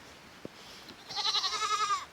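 Goats bleat in a rainy farmyard, a run of wavering, nasal calls that starts about halfway in and carries steadily to the end over a soft wash of rain.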